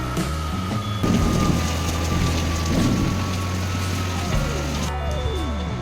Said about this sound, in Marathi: पाऊस तर तसा सगळीकडेच आली